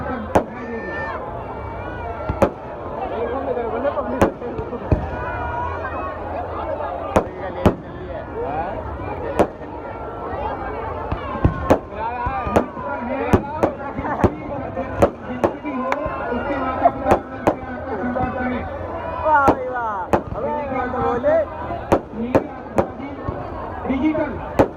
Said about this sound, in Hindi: देखो नीली रंग की आतिशबाजी आपको ऊपर आकाश तक दिखाई देगी